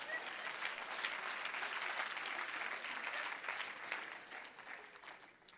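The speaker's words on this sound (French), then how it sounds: "Là, vous pouvez applaudir pour quelque chose." Applause from a church congregation fills the space, a steady dense patter of many hands clapping at moderate distance and fading slightly toward the end.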